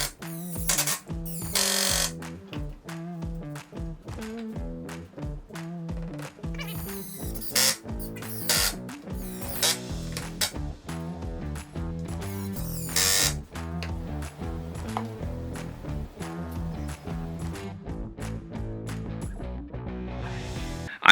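A power drill drives number 10 two-and-a-half-inch construction screws into a wooden shelf frame, with repeated close, loud whirring bursts and sharp clicks in a steady working rhythm and no talking.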